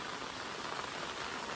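Rain falls steadily at Poomala dam, a soft, even hiss of drops on surfaces, faint and continuous with no voices.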